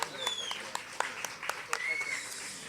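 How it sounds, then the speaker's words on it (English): An audience at a meeting gives brief, light applause, with scattered sharp claps heard faintly under a murmur of voices and a whistle. "Give him a round of applause because he did awesome."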